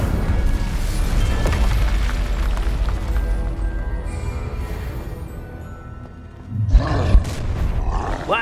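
The Incendio fire spell in Hogwarts Legacy roars out as a loud, sustained rumbling blast of flame, easing slightly before sharper bursts flare up near the end.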